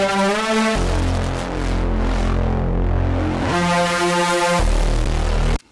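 Deep Reese bass from Serum, with its LFO2 rate automated, throbs and wobbles loudly, alternating between dark rumbling stretches and brighter harmonic swells, then stops suddenly at the end.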